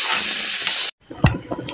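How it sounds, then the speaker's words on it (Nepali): Chili sizzles in hot oil with a loud, bright hiss that stops abruptly, followed by a few faint clicks and small knocks. "मेरो बुढा चाहिँ तेलमा खुर्सानी हाल्यो, यो पड्किन्छ भनेर डरले पर राख्नुभएको छ"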